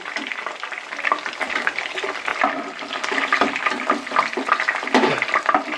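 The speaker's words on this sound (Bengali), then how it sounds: "বাদ বাকি চিকেনগুলোকেও ভেজে নিচ্ছি" Chicken pieces for chilli chicken fry in hot oil with a loud, continuous bubbling sizzle and crackle that rises and falls in bursts, close up and with no talking.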